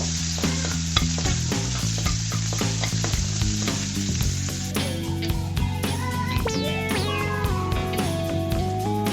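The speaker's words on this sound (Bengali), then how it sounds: "দিয়ে পেঁয়াজটাকেও আমি হালকা করে ভেজে নিব।" Onions sizzle steadily in hot oil with occasional stirring scrapes, nearly buried under loud, continuous background music.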